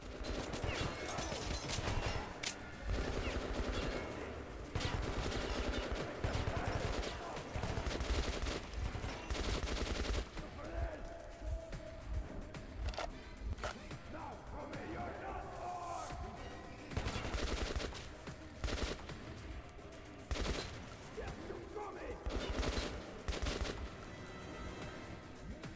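An upgraded AK rifle fires in a video game, with rapid bursts of automatic gunfire crackling repeatedly, some sustained volleys and shorter pops, fairly quiet overall with no clear talk.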